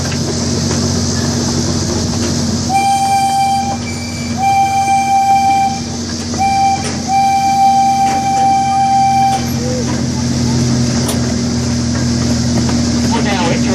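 Rumbling ride on a small zoo tour train at Tulsa Zoo with a long, repeated horn tooting in several blasts, mechanical clatter running steadily underneath.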